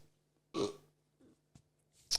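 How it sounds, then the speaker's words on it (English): A short, close burp from a man comes out alone in a quiet room, followed by a few faint small sounds. "Excuse me while I burp once."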